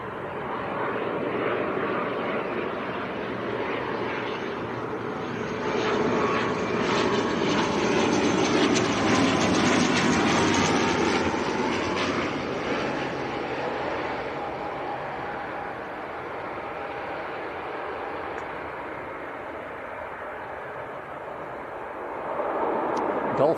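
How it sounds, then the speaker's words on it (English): An Aer Lingus ATR 72 turboprop airliner arrives at Leeds Bradford Airport, its engine roar swelling to a peak midway and then easing off, heard from a distance. "next arrival is the Aer Lingus ATR"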